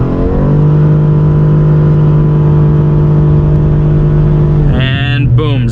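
A 2020 Karma Revero GT holds a steady loud drone with brakes and throttle pressed for launch control, then surges near the end in a rising whine as it launches; the cabin stays loud throughout.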